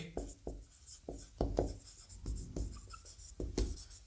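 Pen writing a line by hand on paper, a series of short scratchy strokes in quick irregular rhythm, close and quiet, with no talk over it.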